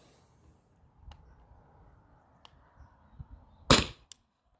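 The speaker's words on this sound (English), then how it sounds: "I'm gonna load the second magazine and start firing again right now." A less-lethal launcher, a Byrna SD or Salt Supply S2, fires one sharp, loud crack after a stretch of quiet handling noise, followed by a faint click.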